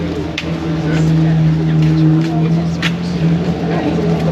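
Cars rolling into a Cars and Coffee meet at Eagle Farm, engines droning steadily up close, with sharper bursts as vehicles pass and people talking faintly in the crowd.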